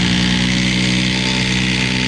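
Milwaukee impact driver runs loudly and steadily at close range, a sustained buzzing whir with a strong low hum and no pauses or talk across the short stretch.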